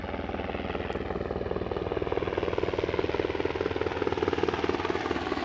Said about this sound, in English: Lots of helicopters.